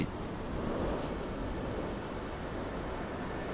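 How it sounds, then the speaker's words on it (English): Steady rain pours during a storm in the No Man's Sky video game, a dense, continuous hiss of falling water with an even, unbroken loudness throughout. "And of course it's raining left, right and centre."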